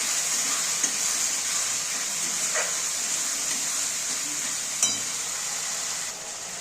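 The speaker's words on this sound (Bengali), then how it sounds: "এবার ভালো করে কষিয়ে নেব।" Spice paste with Kashmiri chili powder stir-fried in a pan for mutton curry, a loud, dense, continuous sizzle close up, with one or two brief spoon scrapes and clinks partway through.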